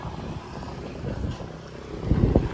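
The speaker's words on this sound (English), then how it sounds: "It's windy as hell." Strong outdoor wind buffets the microphone in low, rumbling gusts that swell and fade, growing heaviest near the end, with no clear voices over it.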